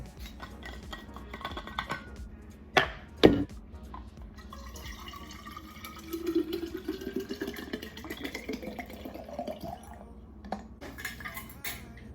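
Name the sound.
filling a water bottle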